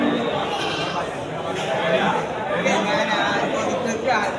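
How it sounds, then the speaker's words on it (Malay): Rams bleat now and then among a crowd of male sheep at a busy livestock market, the calls partly buried under steady chatter and a nearby voice talking. "Ini deretan domba jantan semuanya."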